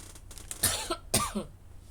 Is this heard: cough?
yes